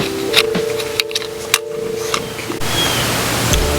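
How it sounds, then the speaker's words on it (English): Water is poured slowly off settled wild clay slurry, making a steady, soft rushing pour that thickens toward the end, with no one speaking. "pour off this water and try and pour off the top as much as I can without pouring too much of the clay out"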